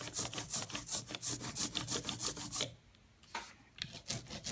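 A printmaking ink roller is worked back and forth through printing ink, giving a rapid run of sticky, tacky rasping strokes, then a brief pause and a few more quieter rolls.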